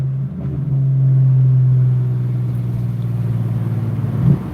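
A BMW E36 M3 engine idling with low rumble, rising into a brief steady rev that holds and then eases back, ending with a short blip, close and loud with no talk.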